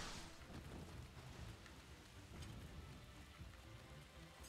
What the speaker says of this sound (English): Okay, so it's raining outside.